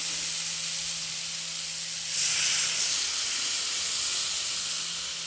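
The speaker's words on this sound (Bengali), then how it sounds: "এবার এতে জল দিয়ে দেবো পরিমাণ মতো" Water poured over sautéed vegetables in a hot pan, a low hum that bursts into a loud steamy hiss midway and keeps hissing steadily to the end, with no voices.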